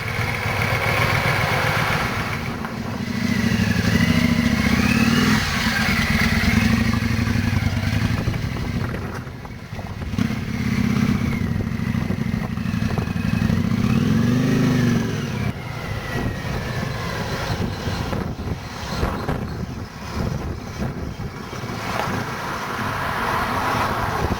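A Yamaha Virago motorcycle engine runs for a long stretch, a loud, close, steady mechanical rumble with revs rising and falling in several swells, no voices over it.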